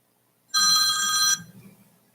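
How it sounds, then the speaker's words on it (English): A mobile phone rings once in a meeting room during a planning and zoning work session, a bright electronic trill lasting under a second, loud and alone before fading into room quiet. "I'm sorry, I forgot to turn off my phone."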